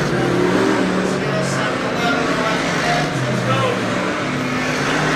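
Dirt Car Sportsman race cars lapping the dirt oval at Weedsport Speedway, a continuous blended engine roar heard from a distance with no clear passes standing out.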